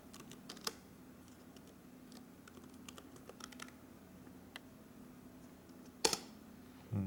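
Fast, quiet clicks of a password being typed on a computer keyboard, light irregular keystrokes spread across the stretch, with a louder knock near the end and no talking.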